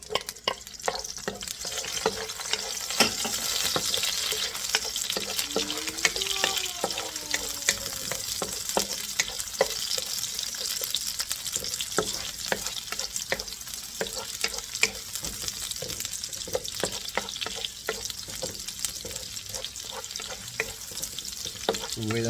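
Garlic fries in oil for pancit bihon, giving a continuous crackling sizzle with dense popping and occasional scrapes, moderately quiet and steady throughout, without speech.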